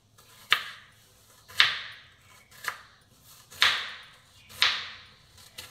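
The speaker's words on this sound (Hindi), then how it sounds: "अब आप इसे बीच से इसे एक बार और काट दें, बस।" A knife cuts through an onion on a cutting board in five separate sharp chops spaced about a second apart, close and clear against a quiet room.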